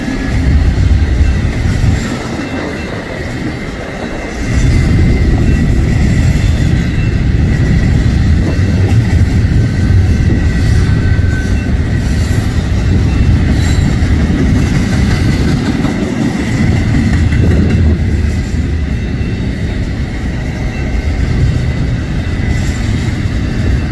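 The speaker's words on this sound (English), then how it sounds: "stack train." A long stack train rolls by on the railway, a loud, continuous rumble of wagons with rhythmic wheel clatter on the rails, close and steady throughout.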